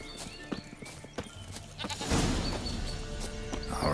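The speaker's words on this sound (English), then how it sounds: "Here, goat." A goat in The Witcher 3 bleats amid busy game ambience with scattered clicks and hoof-like knocks, and a denser wash of game noise swells during the second half.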